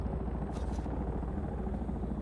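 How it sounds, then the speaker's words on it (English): A helicopter in the game Dune: Awakening thrums with a loud, steady low rotor drone, close and continuous, with a brief hiss rising over it. "Oh, I hear a helicopter."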